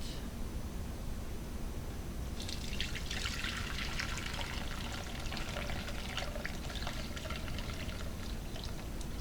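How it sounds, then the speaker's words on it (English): Ginger turmeric tea pours through a metal strainer in a steady, close splashing stream that begins a couple of seconds in and continues without talk over a faint background hiss. "So I'm going to be straining it off into this metal strainer so I can get all the particulates out of it."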